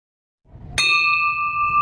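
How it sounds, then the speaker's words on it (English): A single bright bell strike rings out over a Zoom meeting after a moment of quiet, its clear tone sustaining without fading. "we'll ring the bell"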